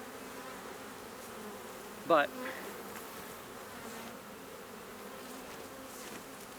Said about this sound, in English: hopefully you can hear the level of buzzing hasn't changed